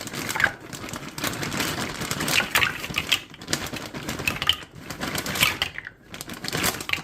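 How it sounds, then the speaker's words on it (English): Large dry pasta shapes tipped into a pan, a dense, uneven rattle of hard pieces clattering and tumbling against the metal, fairly quiet and close, without speech. "I'm going to add around 360 gram of pasta."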